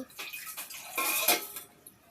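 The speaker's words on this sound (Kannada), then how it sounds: "ನೀರು ಹಾಕ್ಕೊಳ್ತಾ ಇದ್ದೀನಿ" Water poured into a cooking pot of cooked food before vermicelli is added, a brief splashing gush that swells and then tapers off, close and fairly quiet with no talk.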